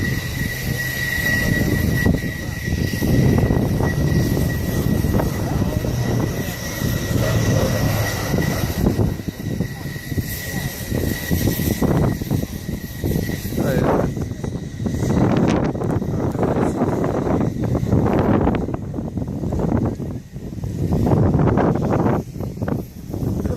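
An Airbus A400M military transport aircraft performs a flying display with steep banking turns, giving a loud, continuous propeller and engine roar that swells and fades as it passes, with occasional spectator voices underneath.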